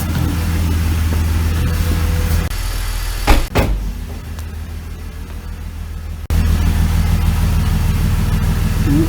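A BMW E46 330i with the M54 six-cylinder idles steadily nearby, giving an even low rumble. A brief thump or clatter comes midway, and the level dips for a few seconds before the idle returns fully. No one speaks.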